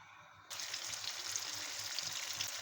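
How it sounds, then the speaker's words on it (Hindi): Handi kebabs shallow fry in oil in a pan, a steady bright sizzle that starts abruptly and then holds loud and even, close up and with no voices. "कबाब को शैलो फ्राई करते हैं।"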